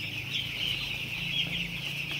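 Young poultry chicks on a farm, several birds peeping continuously in high, overlapping cheeps at close range with no talk.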